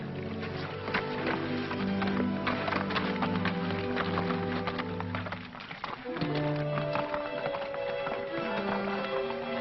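Steady clip-clop of horse hooves near a stream in a 1951 film, over a constant low rumble and tonal drone, with brief splashy textures; the pace continues throughout at moderate loudness.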